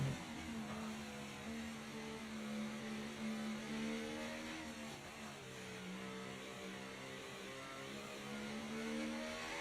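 Race car engines in a racing video game's British Grand Prix league round whine and rev steadily, holding a sustained, slightly wavering drone with no voices.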